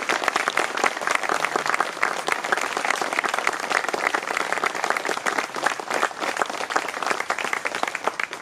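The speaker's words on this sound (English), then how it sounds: "How about giving these guys and gals a round of applause?" Sustained applause from a crowd at a Vietnam War reenactment at the Texas Military Forces Museum, Camp Mabry, dense steady clapping filling the whole stretch without letting up.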